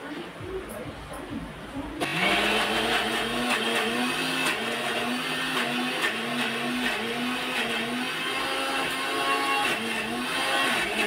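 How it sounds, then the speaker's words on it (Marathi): A mixer grinder whirs loudly as it blends boiled spinach with masala for palak paneer, cutting in after a quieter start and holding a strong motor whine whose pitch wavers in cycles. "आता तो आपण मिक्सरमध्ये ग्राइंड करून घेतो"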